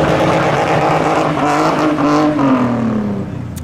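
A BMW E36 with a welded differential drifts sideways, its engine droning loud and steady while tyres squeal in rising and falling tones, close by, with no talking.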